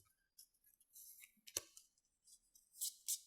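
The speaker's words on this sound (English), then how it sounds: "I am shuffling away." Cards for the board game Fields of Green being shuffled, a run of crisp papery riffles and flicks with one sharp slap partway through, close and fairly quiet with no talk.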